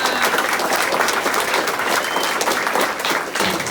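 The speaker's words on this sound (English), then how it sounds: "So let's hear it from Missy Sullivan" Audience applause fills the room, a steady dense wash of clapping from a crowd, loud and continuous throughout with no talking over it.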